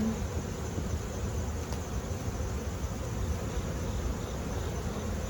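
Honeybees buzz steadily at a hive being fed sugar water, a dense, continuous insect hum close by with no talking.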